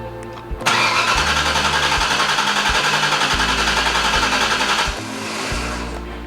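A Shell Valley Cobra replica car cranks on its first start attempt: a loud, dense churning roar with steady rhythmic pulses that eases off after about five seconds, leaving a lower rumble.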